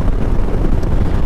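Strong wind gusting across an open microphone outdoors on a hazy day, a steady low roaring buffet with no voices or other clear sounds over it.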